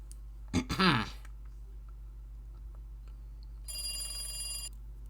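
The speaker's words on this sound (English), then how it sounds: "You have a phone call!" A telephone ringing in the Higurashi video game, one bright electronic ring near the end after a short burst of sound at the start, otherwise quiet with a low hum beneath.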